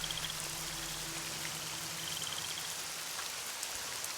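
Steady rain patters in a Nancy Drew game scene, a constant close hiss of drops with faint tonal hums and chirps underneath and no voices.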